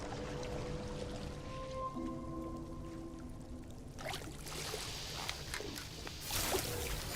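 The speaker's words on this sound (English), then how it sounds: "That sound of water around you." Soft, ambient water in No Man's Sky sloshes and trickles around the player alongside faint tonal game sounds, swelling into a brighter splashing wash toward the end, all quiet with no talk.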